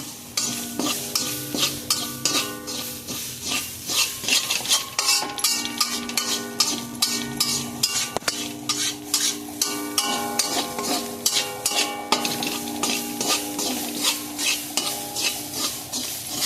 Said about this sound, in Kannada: ಎಣ್ಣೆ ಬಿಟ್ಕೋವರೆಗೂ ಫ್ರೈ ಆಗಬೇಕು